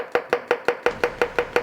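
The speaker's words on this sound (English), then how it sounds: "Let's start by chopping up some mushrooms." Knife chopping mushrooms on a board: ten crisp, evenly spaced chops about six per second, close and clear with no talk.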